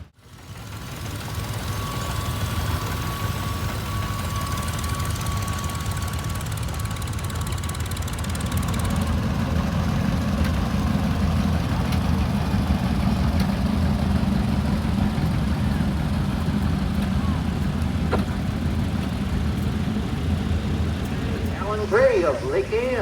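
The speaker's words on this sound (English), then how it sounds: "1949 John Deere Model B." A 1949 John Deere Model B tractor engine runs steadily through a parade, a continuous low chugging drone that holds throughout, with a brief tonal whine early on and a faint voice near the end.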